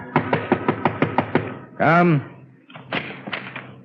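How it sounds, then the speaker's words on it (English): A radio drama sound effect of knocking on a door, eight quick raps in a steady run, then a brief voice and a few more knocks under talk. "there is a knock on the door."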